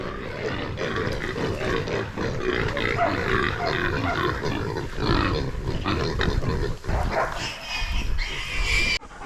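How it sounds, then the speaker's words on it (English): Hunting dogs bay and bark loudly while they catch wild pigs, including a big sow, in a mob hunt. Frantic, overlapping barking and growling mix with pig squeals and a scuffle, close and continuous throughout. "Just hit a mob of pigs. Dogs went and Red got one and the other dogs got one, big sow"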